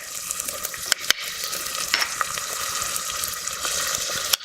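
Onion and garlic fry in oil with a loud, steady sizzle, close and bright, with a few sharp clinks and scrapes of stirring against the pan and no voices.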